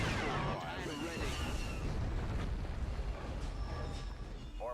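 Cannons fire in a Star Wars strategy game, Thrawn's Revenge, producing a loud, continuous barrage of booming blasts and rumbling explosions with faint voices underneath.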